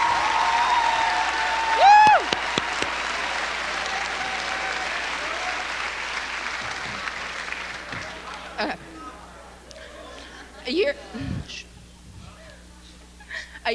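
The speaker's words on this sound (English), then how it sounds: "they deserve a warm applause" An audience at the Lemon Bay High School Class of 1999 commencement gives teachers sustained, dense applause that gradually fades, with a few whoops and voices heard as it dies down.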